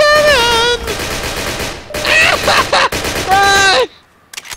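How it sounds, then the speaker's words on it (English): Rapid gunfire rattles in the Garry's Mod World War 2 mod, loud, dense bursts of shots over about four seconds, with a voice shouting over the shooting. "Shoot him! Shoot the German!"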